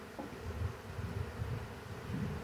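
A honey bee swarm being poured and bumped into a hive box, with many bees flying around, gives off a soft, steady buzz with a low pulsing hum that comes in gentle swells.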